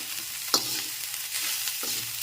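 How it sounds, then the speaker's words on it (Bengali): A vegetable chop filling fries and sizzles in a pan while a spatula stirs it. Two distinct scraping strokes stand out over a constant close crackle, with no voices. "একটু ভালো করে নেড়ে চেড়ে নিচ্ছি"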